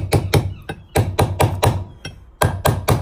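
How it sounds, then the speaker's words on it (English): A hammer gently tapping on the front bearing swivel of a Classic Mini during a hydraulics suspension rebuild, struck in quick pairs and short bursts of sharp, close metallic knocks with brief pauses between. "nice hammer. So yeah, just gently tap round, side to side, top and bottom"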